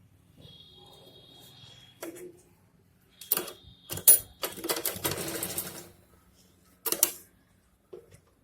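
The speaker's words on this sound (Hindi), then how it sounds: "फिर इसे पलट के और एक सिलाई डालेंगे।" Sewing machine running short stitching bursts on a patiala suit, close and moderately loud, with pauses and a few clicks between runs.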